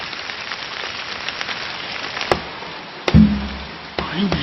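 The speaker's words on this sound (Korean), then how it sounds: "정말 거짓말처럼 비가 내리기 시작했던 것이죠." Steady rain patters on a surface throughout, with a few sharper drips and taps standing out near the end.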